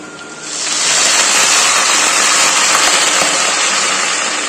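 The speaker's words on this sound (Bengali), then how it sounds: "এবার আমি এর ভিতরে জল দিয়ে দেবো।" Water poured into fried onions in hot oil sets off a loud, steady hiss and roar of sizzling that starts abruptly and keeps going without a break.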